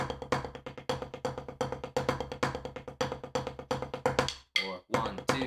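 A snare drum plays a fast, crisp rudiment pattern of evenly spaced strokes and accents, nearly continuous with one brief pause near the end.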